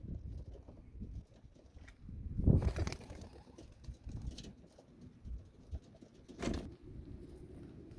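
Domestic pigeons at a racing loft during young bird season coo softly and intermittently amid general background noise, with a couple of louder bursts, and no voices heard.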